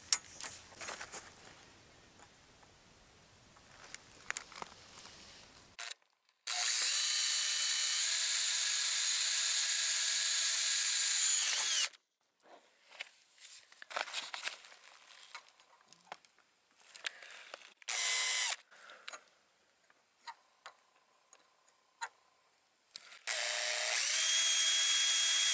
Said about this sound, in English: And now I'm going to drill little holes.